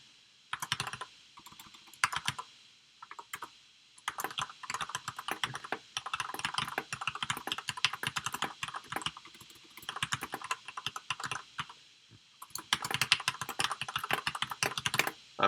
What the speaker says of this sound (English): I'm typing exactly what I'm saying